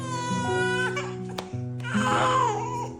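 An infant crying loudly and close by in a home, with sustained wailing and a short break midway, and a voice mixed in.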